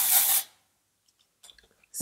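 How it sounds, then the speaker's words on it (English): A single short hiss of Colab Extreme Volume dry shampoo sprayed from an aerosol can, followed by near silence and faint soft rustling. "now I'm going to use my Colab Extreme Volume Dry Shampoo"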